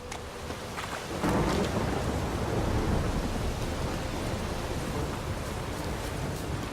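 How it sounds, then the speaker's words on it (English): Heavy thunderstorm in The Witcher 3, with steady loud rain hiss and a rumbling roll of thunder swelling early and lingering, no voices. "The storm, damn it."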